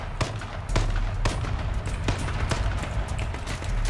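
Gunfire in the battle royale game H1Z1 comes as a string of sharp, evenly spaced shots over a low rumbling game background, with no speech.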